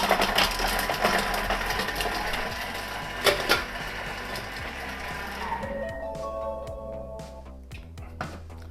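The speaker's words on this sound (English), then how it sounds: "Let's get this garlic chopped. Speed select to 5 for 5 seconds." A Thermomix TM6 runs at speed 5 for a few seconds to chop garlic, giving a steady mechanical whirring that winds down into lighter clattering and clicks as the blade stops.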